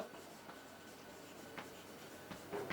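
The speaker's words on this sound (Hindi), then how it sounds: "ये नरेशन लिखेंगे" A pen writes out a journal-entry narration for accounts, giving faint, quiet scratching strokes with a few brief taps on paper, no voice.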